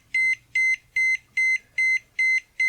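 A Vapcell S4 Plus V3 four-bay fast battery charger beeps in seven evenly spaced, identical electronic tones, each about a fifth of a second long, loud and close against a quiet background.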